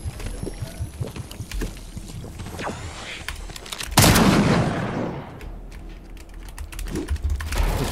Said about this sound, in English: Oh, I got the new shotgun shot.